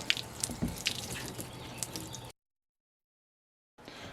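Water rinses steadily over an epoxy-primed surface and sheets off it, a continuous splashing hiss with a few louder drips, stopping abruptly and resuming softly near the end.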